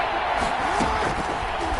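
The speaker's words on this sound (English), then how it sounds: "The crowd getting into it as we come up on a big third down." A stadium crowd at an American football game before a big third down makes a broad, steady roar that stays level and sounds distant throughout.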